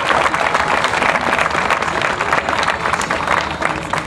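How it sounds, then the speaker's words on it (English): Crowd applause for servicemen, servicewomen and their families at a Veterans Day ceremony in The Woodlands, Texas: loud, dense clapping from a large audience, sustained evenly throughout. "Let's give all these honorable servicemen and women and their families a round of applause"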